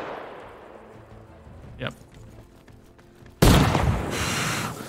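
Hip-fired gunfire in Arma Reforger's DayZ mod, heard as a sharp, loud burst of shots near the end after a quieter stretch, with a short spoken reply just before.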